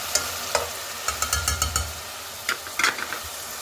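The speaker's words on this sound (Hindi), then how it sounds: "मटन मैंने इसमें ऐड कर दिया है और इंशाल्लाह जैसे ये थोड़ा सा भुन जाता है" Mutton browns in a pot for goat korma, giving a sizzling hiss broken by irregular scraping stirs and metallic clinks of a spoon, clustered in quick bursts, close and without talk.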